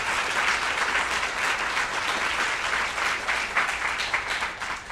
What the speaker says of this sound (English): I'm going to ask for a round of applause